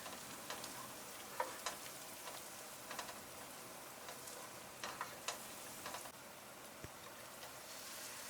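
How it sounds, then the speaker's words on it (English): Ginger, garlic and powdered spices fry in a pot for a partridge curry, a soft steady sizzle with scattered crackles and light stirring taps, faint and close, with no voices. "add the ginger and garlic into the pot and fry for another minute"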